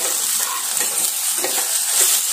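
Okra sizzles steadily in a hot pan with oil. Scraping stirs repeat at irregular intervals, close up and fairly loud, with no voices.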